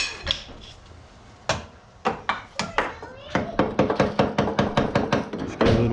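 Hammer blows driving a chisel against the rear axle of a Polaris Sportsman 500 4x4 ATV, sharp metallic strikes spaced out at first and then quickening into a rapid, steady rhythm, close and loud.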